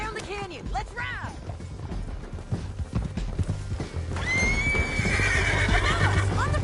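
Horse hooves clip-clopping at a gallop with repeated neighs and whinnies in Red Dead Redemption 2, mixed with game ambience and a rising wind-like swell in the second half.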